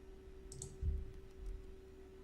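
A single computer mouse click while installing WordPress, a faint soft tick near the middle of the clip against quiet room hum, with no talking.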